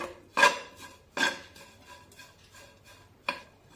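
Coriander is stirred into pea filling in a pan for matar kachori, giving a few distinct clinks of a spoon against the pan with soft scraping in between and no talking.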